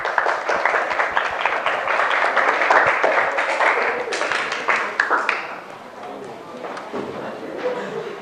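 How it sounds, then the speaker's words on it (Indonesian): A classroom audience gives a group presentation a dense round of hand applause that holds steady for several seconds, then thins out and tapers off. "Ayo kasih tepuk tangan."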